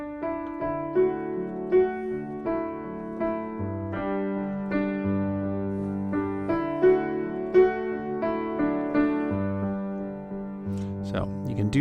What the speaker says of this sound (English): he actually does do that left hand arpeggio through the whole instrumental section